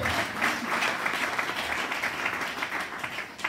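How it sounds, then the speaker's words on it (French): A church congregation applauds to praise the Lord during a worship service, with sustained dense clapping filling the room at a steady level and no speech over it. "Acclamons le Seigneur pour sa gloire."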